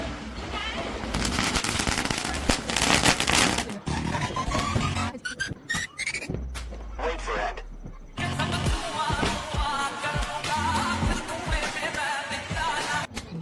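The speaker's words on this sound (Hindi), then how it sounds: "आपको दीपावली पे सौभाग्य मिल रहा है पटाखे फोड़ने का" Firecrackers burst during Diwali in a rapid, crackling barrage of sharp pops and bangs, with loud dense stretches broken by brief pauses, near and intense, and voices faintly audible in the mix.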